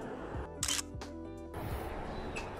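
A Canon M6 Mark II fires at a slow shutter speed, giving two close mechanical clicks spaced roughly a second apart with a short gap between them, crisp and close against quiet outdoor background sound.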